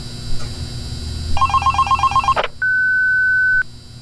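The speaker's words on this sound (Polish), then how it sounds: "ale na początku telefon." In the game Five Nights at Candy's, a phone gives a burst of rapid warbling electronic rings that cut off with a click, followed by a single steady answering-machine beep lasting about a second.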